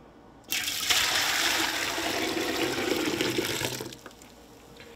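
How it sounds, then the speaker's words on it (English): Soup liquid from a spicy snapper soup is poured back into the pot, starting abruptly as a loud, close, splashing rush that lasts about three seconds before tapering off. "I'm gonna pour all of this back into the pot here."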